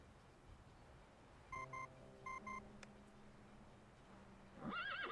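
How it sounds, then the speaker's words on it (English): In the video game Reverse 1999, a communicator chirps in a few short, faint electronic beeps, then a startled horse lets out a loud, close whinny at the end, with no talking. "The communicator's noise startles the nibbling horse"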